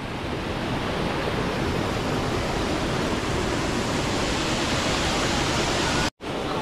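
Water from a waterfall crashes down in a steady, loud, broadband roar that fills the whole stretch without letup, broken only by a brief dropout near the end.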